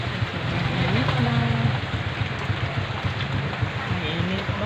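Steady rain falls outdoors where vendors are working, making a loud, unbroken hiss that fills the whole stretch, with faint voices murmuring underneath.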